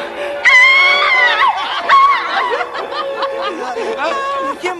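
A person screams loudly and shrilly, a long wavering cry that breaks into repeated wailing bursts and sobs, close and dominant in a film scene.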